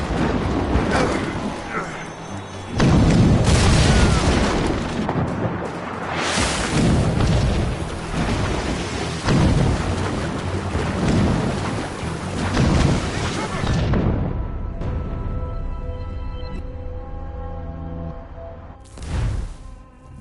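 Ship cannon fire in the Assassin's Creed Rogue PS5 remaster, a series of heavy booming blasts with rumbling tails over dense battle noise and music, loud and close, easing into quieter tones near the end before a final burst.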